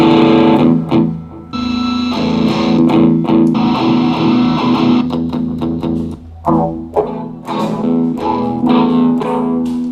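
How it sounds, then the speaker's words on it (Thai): A loud electric guitar with heavy distortion plays chords and short muted riffs, with crunchy sustained tones and abrupt stops. "ผมเลือกเอฟเฟกที่มันเป็นเสียงแตกหน่อยดีกว่า"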